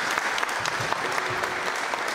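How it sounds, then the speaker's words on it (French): Applause at a public debate in France, where an audience claps steadily for a speaker being introduced, a moderate, dense patter of many hands with a faint voice underneath. "Applaudissez-le, s'il vous plaît."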